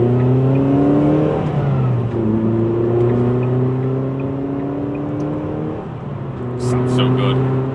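A Ford Fiesta ST fitted with a Collins Performance torque mount accelerating hard, engine note climbing through rising revs with distinct gear changes, loud and close from inside the car, with a voice talking over it.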